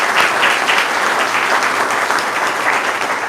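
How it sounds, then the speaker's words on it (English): A crowd at a botanical gardens groundbreaking ceremony gives a loud, close round of applause, a thick continuous patter of many hands that holds steady throughout without talking. "if we could just all give them one last round of applause"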